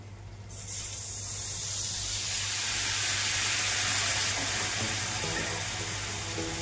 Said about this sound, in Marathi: फक्त 2 चमचे आपल्याला इथं पाणी टाकायचं आहे